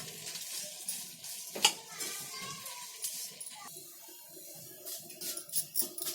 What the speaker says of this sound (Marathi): आणि याच्यामध्ये आहे ना थोडी शेव भाजून घेते.